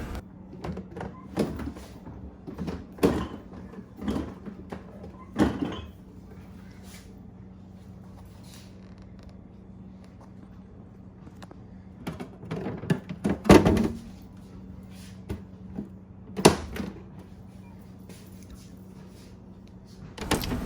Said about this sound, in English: I'm jerking the door a little bit to see if it stays closed.